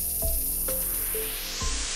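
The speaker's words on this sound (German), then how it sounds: "An den Zustellachsen werden die Sprühpistolen nun präzise in Position gebracht. Und schon kann die Beschichtung losgehen." Automated powder coating spray guns on positioning axes spray steadily, a loud continuous hiss filling the clip with a few faint mechanical clicks and tones beneath it.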